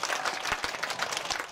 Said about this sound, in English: So clap for us.